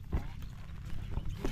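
Carabao hooves thudding during a water buffalo race practice in Bibiclat, Aliaga, a few low knocks spread across a noisy outdoor scene with faint voices in the background.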